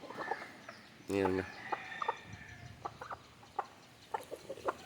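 A native hen pecks at ants, letting out one loud close cluck followed by softer scattered clucks and small pecking sounds, with someone speaking briefly.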